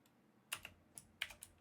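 Quick bursts of typing on a computer keyboard, crisp clicking keystrokes close by in a quiet room, with no voices.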